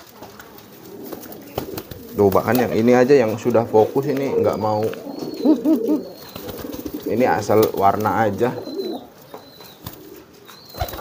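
Pigeons cooing in courtship, with deep rolling coos rising and falling in two long bursts, heard close up under someone talking throughout.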